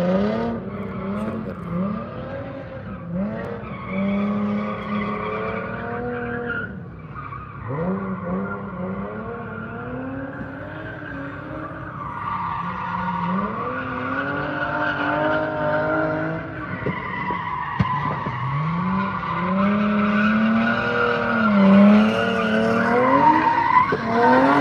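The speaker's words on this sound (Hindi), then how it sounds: "टायरों की ट्रैक्शन बढ़ाने के लिए एक राउंड लगाते हैं ताकि टायर थोड़ा हीट पकड़ें, ग्रिप टायरों की बने" Car drifting around a drift park track with long, continuous tire squeal and skidding over a revving engine, loud and sustained throughout with rising and falling pitch sweeps.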